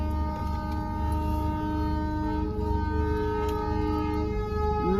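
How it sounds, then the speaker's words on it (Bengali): A Vande Bharat train passes near a railway line, giving a steady loud rumble with sustained tonal horn-like hum layered on top, continuous and close throughout. "বন্দে ভারত যাচ্ছে"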